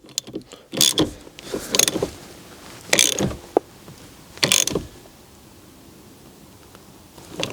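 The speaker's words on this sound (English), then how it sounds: "So the bolt goes back on there." Bolt being tightened on the steering wheel of a 2021 Audi A3 8Y: several short ratcheting clicks and mechanical creaks in irregular bursts, close and moderately loud, then quiet.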